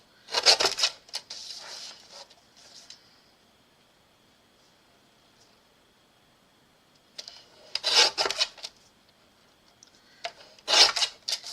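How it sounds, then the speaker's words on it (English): A paper trimmer slices through card stock in three separate bursts of close, raspy scraping, with quiet gaps between the cuts. "So let me trim this real quick."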